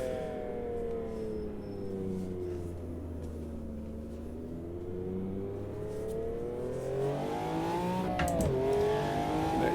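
A McLaren F1 V12 LM engine in the Automobilista 2 racing game, a loud sustained V12 drone climbing steadily in pitch as the car accelerates, with a sharp shift-like change near the end.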